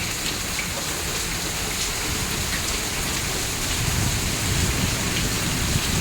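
A hailstorm with rain pelts Asifabad in a continuous, close roar of falling water and small stones that swells slightly near the end, with no one speaking.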